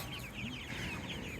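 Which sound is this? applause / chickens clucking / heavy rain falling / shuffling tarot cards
chickens clucking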